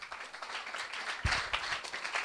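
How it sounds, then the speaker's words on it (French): An audience at a talk gives scattered applause as a guest is welcomed on stage, a moderate run of overlapping claps that swells briefly near the middle. "Vos applaudissements."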